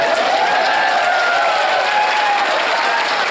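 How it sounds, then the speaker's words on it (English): A crowd at a fan meetup claps as latecomers arrive, steady, loud and close applause filling the whole moment. "Can we like applaud for the people who are still coming in?"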